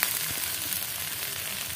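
Cabbage frying in hot oil in a pan, a brief, steady, close crackling sizzle with no voices.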